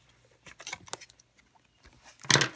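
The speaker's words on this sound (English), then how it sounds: "Actually, I'm going to use the scissors." Scissors snip at a cardboard box, with a few scattered crisp cuts and rustles, followed by a louder, sharper burst of cutting near the end.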